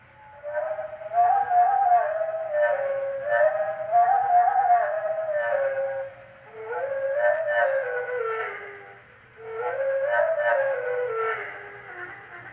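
Veery song slowed to one tenth speed becomes low, drawn-out whistling tones with layered harmonies, rising and falling in four long swelling phrases with brief gaps between.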